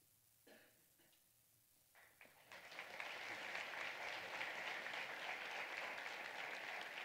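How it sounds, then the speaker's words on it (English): Audience applause at a senior day awards ceremony, starting with a few scattered claps and swelling within a few seconds into steady, full applause from a large crowd that continues to the end. "please join me in another round of applause and congratulations"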